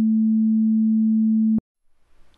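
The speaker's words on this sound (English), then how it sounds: "Let's start with a sine wave." A steady pure sine wave test tone holds at one low pitch for about one and a half seconds, then cuts off abruptly, followed by faint low noise.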